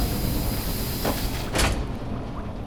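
A door slides shut in the VR game Metro Awakening, two quick scraping bursts ending in a solid close, heard up front over a constant rumbling game background.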